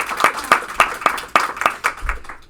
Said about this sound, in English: That, I gotta give a round of applause for that.